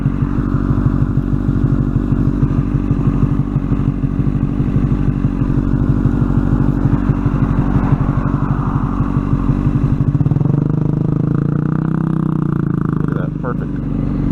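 Motorcycle engine revving hard under heavy throttle while the clutch is slipped on a hill climb, a loud steady drone that shifts in tone near the end, with people talking over it.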